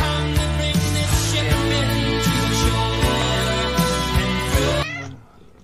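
Cat meowing in a Sheba cat food commercial, a sustained, insistent call set against music that cuts off abruptly near the end.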